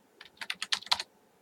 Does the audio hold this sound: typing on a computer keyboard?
yes